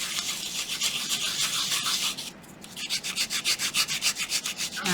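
Sanding wooden shapes by hand, a close scratchy rub that starts as a continuous stroke, pauses briefly, then becomes quick regular back-and-forth strokes.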